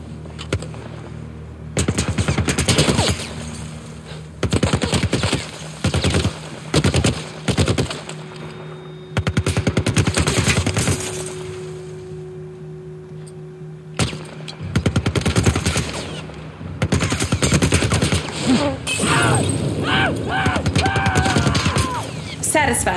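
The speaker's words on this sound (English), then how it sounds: "Some kind of military turret." Rapid automatic bursts from a military turret in The Last of Us Part 1, loud rattling volleys in several long runs separated by brief pauses, with a player's voice occasionally in between.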